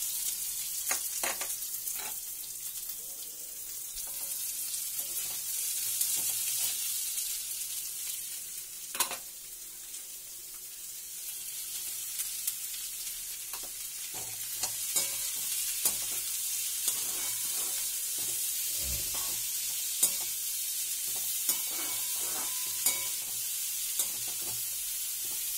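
Chopped onions and fennel seeds fry in hot oil for paneer bhurji, giving a steady sizzling hiss with soft stirring and scraping sounds now and then, and no talk.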